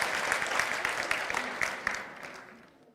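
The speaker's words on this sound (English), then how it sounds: "Round of applause for our parents" Clapping from an audience at a children's programme, applauding the parents, rises briskly then fades over a few seconds, moderately distant and without talk.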